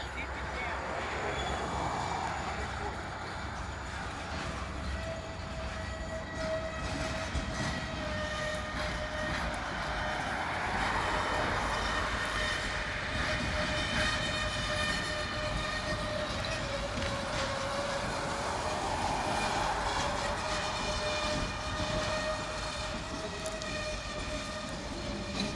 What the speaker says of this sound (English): Norfolk Southern safety train for some reason is being pulled backwards from the rear.